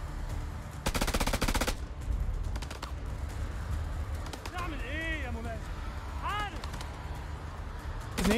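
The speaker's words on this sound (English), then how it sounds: "now we're all shooting at each other" Gunfire erupts in a shootout in House of Ashes, with a dense, loud burst of rapid automatic fire followed by isolated shots, while voices talk over it.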